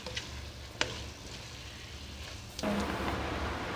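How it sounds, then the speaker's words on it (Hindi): Beef curry do pyaza gets stirred in a pan after fresh coriander is added, giving a soft sizzle with a few light scraping clicks that turns into a louder, brighter frying hiss near the end. "ये थोड़ा सा धनिया मज़ीद इसमें शामिल कर दूँ और इसे अच्छे तरीके से इस तरीके से मिक्स कर लूँ"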